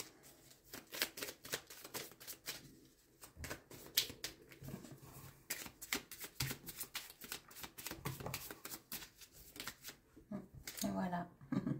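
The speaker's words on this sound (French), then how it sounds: "Je vais tirer une petite carte pour la fin." Playing cards riffled and shuffled by hand in rapid, crisp bursts of flicking clicks, close up, with a voice speaking softly at times alongside.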